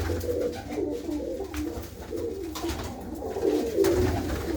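Several pigeons cooing in low, repeated murmurs in a coop inside an old fort, close by, with occasional rustling and clatter around them.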